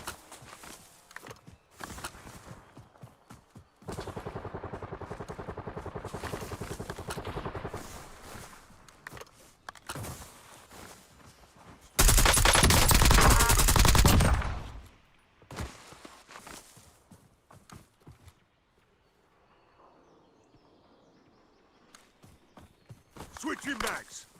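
Gunfire rings out in a Call of Duty Warzone match in Verdansk: scattered sharp shots and footsteps, then a loud sustained burst of firing midway, with players talking throughout.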